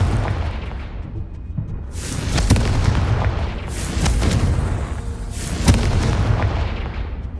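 Confringo fire spell blasts in the Hogwarts Legacy video game, three heavy booming explosions a couple of seconds apart, each with a sharp crack and a rolling rumble over a steady loud battle din.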